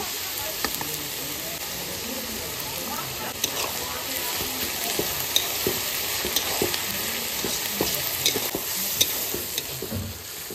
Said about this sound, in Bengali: পেঁয়াজটা হালকা ভেজে নিয়েছি